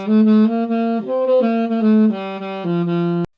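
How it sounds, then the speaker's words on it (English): A saxophone plays a stepwise run of sustained notes, tongue and fingers unsynchronized, each attack slightly smeared and uneven where the note changes, ending abruptly. "if you're not quite synchronizing your fingers with your tongue, it can sound like this"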